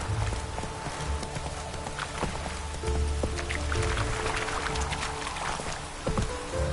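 Horse hooves clop in a steady galloping rhythm while riding in The Witcher 3, heard over a continuous low rumble of game ambience with faint tonal background music.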